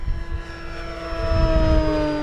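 An FMS DeHavilland Beaver 2000mm RC model airplane flies past, its steady electric propeller whine holding several sustained tones that swell slightly louder as it nears, heard alone with no talk.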